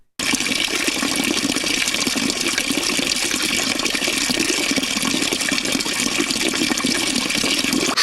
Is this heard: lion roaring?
no